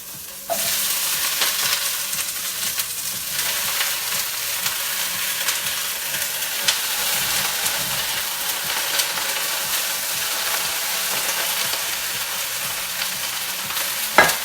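Sukiyaki ingredients, beef with onions and tofu, sizzling and being stirred in a hot Japanese pot, a steady loud frying hiss with scraping stir sounds running throughout, no talking.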